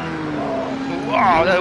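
A Lamborghini Diablo GTR racing car in Project Cars 2 drones along with a steady engine tone, then brakes hard as the pitch swoops and warbles at the end. A voice talks over it.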